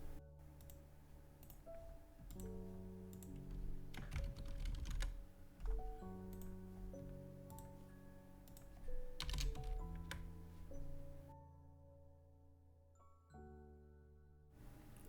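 Quiet, irregular bursts of typing on a computer keyboard, with clusters of key clicks separated by short pauses, heard close up over a faint tonal background, with no one talking.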